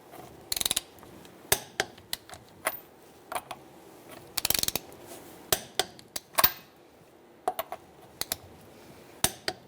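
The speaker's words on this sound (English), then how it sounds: "using a 19mm socket, we're going to torque the wheel to 100 foot-pounds in a star-like pattern" A torque wrench tightens the front wheel lug nuts of a 1998-2011 Ford Ranger with a 19mm socket. Sharp ratcheting clicks come in quick irregular bursts, close up, with brief metallic clacks and no talking.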